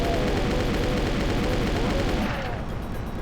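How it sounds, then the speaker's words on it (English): Rapid gunfire from a submachine gun in Doom II pounds continuously and loudly as a dense stream of shots, cutting off abruptly near the end. "I'm going to break out the submachine gun because of this encounter"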